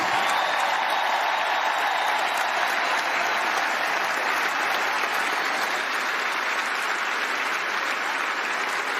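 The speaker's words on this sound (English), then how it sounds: "Give them a huge round of applause, please." A large baseball stadium crowd at a St. Louis Cardinals retirement ceremony applauds steadily, a dense, loud wash of clapping sustained without pause from start to finish.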